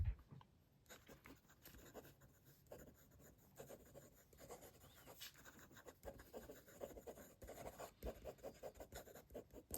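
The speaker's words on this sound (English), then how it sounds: "Fast writing." Fast handwriting with an Asvine V800 fountain pen fitted with a slightly soft, very wet-flowing nib, giving close, faint, continuous scratchy strokes in quick irregular bursts across paper.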